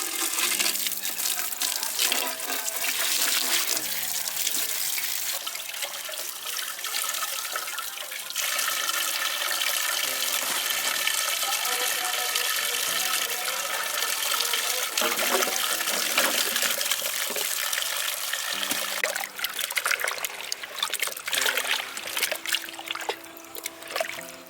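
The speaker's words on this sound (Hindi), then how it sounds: "तो सबसे पहले हम धनिया को धो लेते हैं।" Tap water runs steadily while fresh coriander is washed in a sink, a loud continuous splashing stream with shifting gurgles and dribbles as the leaves are moved under it.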